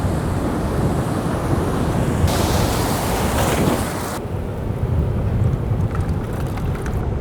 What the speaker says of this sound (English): Oh no, here comes a wave.